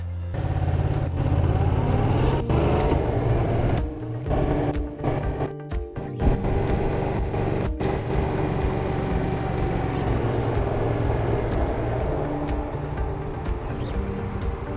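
A motorcycle rides through three cone gates at 30 km/h during a practical riding test exercise, its engine droning close and loud with shifting revs and brief dips as the rider weaves.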